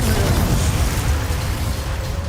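Loud, continuous blast and rumble from a Confringo fire spell detonating during a Hogwarts Legacy battle, a dense roaring burst that stays heavy and sustained without pause.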